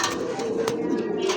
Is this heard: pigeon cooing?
yes